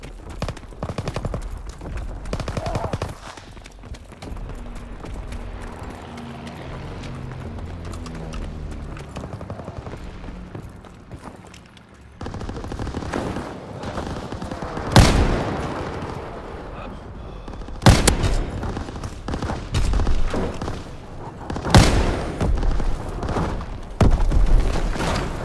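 A Type 38 rifle fires in a Call of Duty: WWII Ground War match, with sharp, loud shots spaced through the action, set against hoof-like clatter, distant booms and battle noise.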